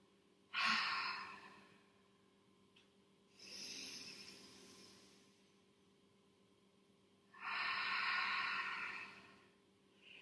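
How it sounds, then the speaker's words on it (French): Three slow, breathy ujjayi yoga exhalations through the throat with a soft hiss, each lasting a couple of seconds and separated by quiet pauses, close to the listener. "cette respiration Ujjayi, que l'on appelle aussi la respiration de l'océan, qui crée un léger bruit dans la gorge"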